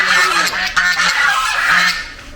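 Several ducks at a pond beside a Datta temple honk and quack loudly and close by in short repeated calls, with no one talking.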